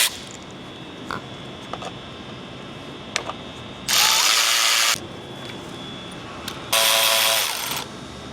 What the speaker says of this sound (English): Then we can start reinstalling our screws.